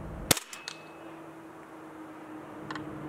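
Airsoft gun fitted with an MWC valve firing a single sharp close crack, followed by a few faint mechanical ticks and a soft hiss.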